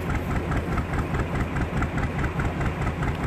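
Canal narrowboat engine on the Ashby Canal running steadily at moderate revs, a continuous close, low rumbling throb with an even rhythmic pulse and no voices.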